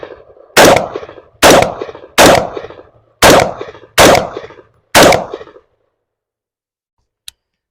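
Six sharp, loud rifle shots from an AR-15 with a Precision Defense upper, spaced roughly a second apart in a steady rhythm, each with a short echoing tail, followed by quiet and a faint click.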